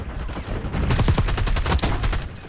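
Rapid automatic fire from a Krig C rifle in the video game Black Ops 6, a dense burst of sharp, loud shots in quick succession after a brief lead-in.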